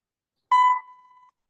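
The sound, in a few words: computer alarm ringing from a Python alarm program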